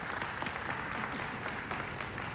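A crowd applauds at a nine-ball pool match in Las Vegas, a short, moderately loud spatter of clapping.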